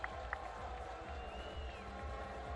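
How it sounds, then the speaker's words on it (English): Crowd applause at a beach soccer match between the UAE and Brazil, a steady wash of clapping and cheering from the stands with a few sharp claps standing out near the start. "The applause, and they're well worth the applause"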